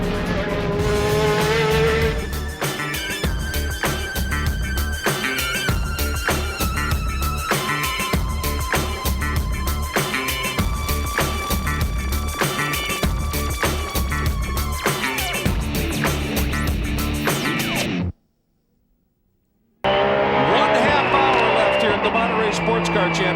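American Le Mans Series sports prototype and GT race cars at Mazda Raceway Laguna Seca in 2006, engines roaring loudly and continuously with passing whines and tire noise, under broadcast commentary, then a brief silence before the roar resumes.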